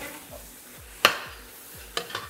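Onions frying in a hot pan until lightly browned, with a dark fond forming on the bottom; a low sizzle runs throughout, broken by a few sharp scraping stirs of a utensil against the pan.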